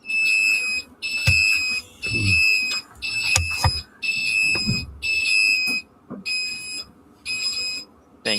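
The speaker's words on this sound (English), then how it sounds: "just click mute buzzer and it should mute the buzzer" Morley IAS fire alarm panel buzzer sounding in repeated bursts of about a second with short gaps, a shrill steady tone close to the microphone, while faint clicks and handling noise sit underneath.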